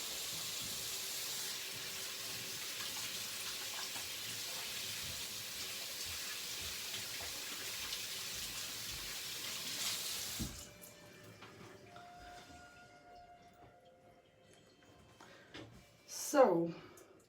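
Water runs steadily for about ten seconds, then quieter splashes and small clatters follow as herbs are poured into the water, with a brief louder burst near the end.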